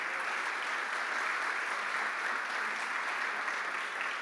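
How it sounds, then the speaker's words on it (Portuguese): A church congregation applauds a woman named Eva, steady continuous clapping from many hands filling the room throughout, with no voices rising above it. "Dê uma salva de palmas para Eva,"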